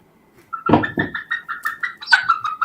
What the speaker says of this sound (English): Sorry, my rooster's a bit freaking out.